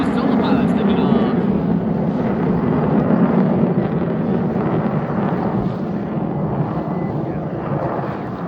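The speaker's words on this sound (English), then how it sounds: "and then we're seeing 2 solo pilots taking off." Blue Angels solo jets taking off during a practice airshow at Pensacola, Florida, a loud sustained jet roar with low rumble, steady then easing slightly, heard alongside crowd and wind noise.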